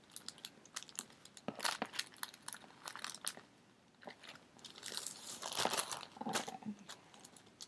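Paper being folded and creased by hand while making a window star, close-up crinkling and crisp crunches in uneven bursts, quiet and with no talk.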